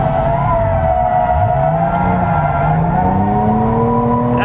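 A Hyundai Genesis Coupe (SEMA build) drifting, its engine holding a loud, sustained high-revving drone with rising and wavering pitch and tire noise, close and continuous.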